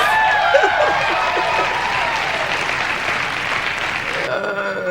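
A comedy show audience breaks into broad, sustained applause and crowd noise after an OJ Simpson joke, loud and steady for several seconds before it thins out.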